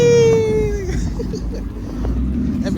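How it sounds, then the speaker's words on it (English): Car engine at a car meet, a high revving whine that slides steadily downward and fades within the first second, followed by low rumble and scattered crowd noise with people talking. "Hey, is they gonna rev it up?"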